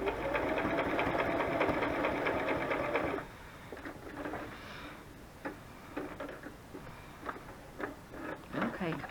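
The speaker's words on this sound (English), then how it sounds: "Let's do a couple of straight stitches just over this so that holds it in place." A sewing machine stitches straight lines across a lacy junk journal cover, a loud rapid mechanical whirr for about three seconds, then stops, followed by softer handling clicks and rustles.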